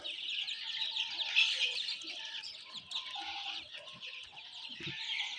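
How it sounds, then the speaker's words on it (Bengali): Newly hatched desi and Sonali chicks peep constantly in a dense, high chorus at close range, with soft shuffling underneath and no talking. "এই দেখেন আমার দেশি মুরগি বাচ্চা বাইর হয়েছে, সোনালি এবং দেশি"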